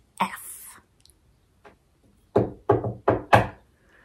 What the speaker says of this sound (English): she knocked briskly on apartment 8F